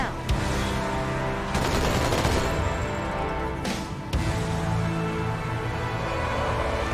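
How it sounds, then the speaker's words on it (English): Gunfire and rocket launcher blasts from Halo 2, with dense bursts of loud shots and sharp explosive bangs crowding close together throughout. "Please do not shoot that rocket launcher right in front of me."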